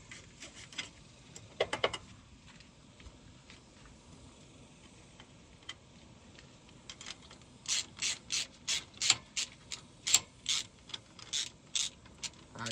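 A bent hose clamp is worked off a truck's turbo hose, with scattered metallic scrapes and clicks building into a run of rhythmic ratcheting strokes near the end, close up and with no talking.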